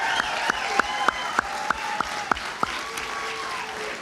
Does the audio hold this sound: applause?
yes